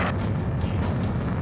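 Rocket blast in the Ace Combat 7 combat flight game during a harbor battle, a sustained loud roaring rumble with deep low-end weight lasting the whole moment, with no voices.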